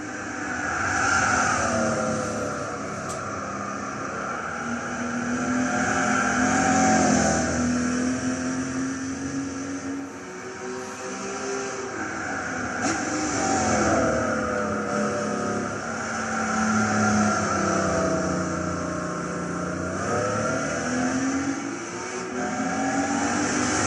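A 1987 RUF CTR Yellow Bird laps the Tsukuba circuit in Gran Turismo 6, its engine droning continuously, with pitch rising through gears and falling on lifts, loud and steady for the whole stretch with no talk.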